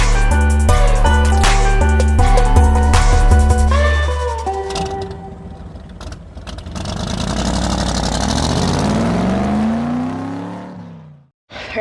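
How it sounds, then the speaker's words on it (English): Pontiac GTO V8 idling as it warms up, loud and close, with a lumpy rhythmic idle at first and then a rougher steady rumble mixed with wind noise, fading near the end. "got the GTO running over here, getting her warmed up."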